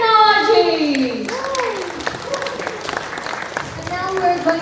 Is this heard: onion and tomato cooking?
no